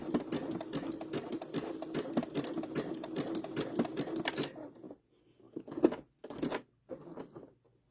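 Sewing machine running a zigzag stitch while appliquéing apple dish towels, a steady rapid needle chatter for several seconds, then stopping and starting in short bursts.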